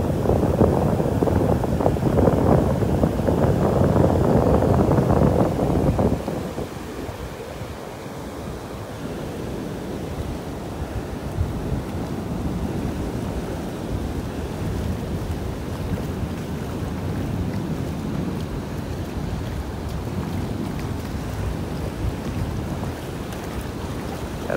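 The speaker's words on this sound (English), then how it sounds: "At a 15-knot wind, 10 to 15-knot wind coming in from the Gulf this morning." Steady 10 to 15-knot wind coming in off the Gulf over a North Naples, Florida beach, a loud, constant rush with surf, heaviest in the first six seconds and then a lower continuous roar, with no voices.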